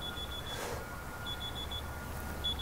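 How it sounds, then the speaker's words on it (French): A mobile phone reminder alarm sounds indoors at home: short, high, thin beeps in quick repeating groups separated by pauses, faint against a quiet background hum. "c'est mon téléphone que j'ai coupé et qui fait un truc assez rigolo"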